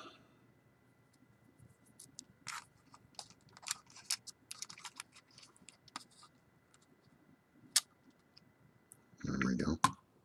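Plastic cover of a Dragon Touch E71 tablet being pressed back on, giving a scattered series of small, close clicks and snaps, ending in a louder fumbling handling noise.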